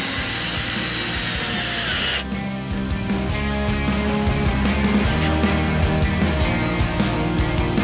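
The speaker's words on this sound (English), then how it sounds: "Pre-drill a pilot and countersink to avoid splitting the thinner purlin stock." A power drill bores a pilot hole into a thin wooden pergola purlin, a steady loud mechanical whir running continuously from about two seconds in, with an earlier stretch of broadband noise before it.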